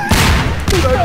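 A bomb blast in Garry's Mod, a loud booming burst with rolling crackle that fills the short moment, followed by a brief tonal game sound as it dies away.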